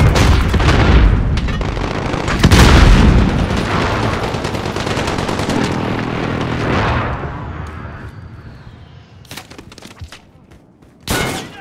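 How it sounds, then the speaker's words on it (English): Precision airstrike explosions from a Call of Duty Modern Warfare team deathmatch: loud, dense booms and rolling blasts layered with rapid gunfire, fading into quieter rumble before two sharp late bursts. "Friendly precision airstrike on the way."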